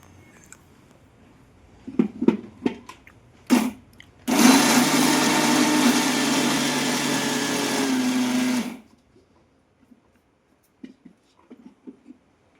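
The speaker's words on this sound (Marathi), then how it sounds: "तर हे आपल्याला परत एकदा मिक्सरला फिरवून घ्यायचं" A kitchen mixer grinder whirs loudly for about four seconds while grinding sesame filling for karanji, preceded and followed by light clattering and handling noises.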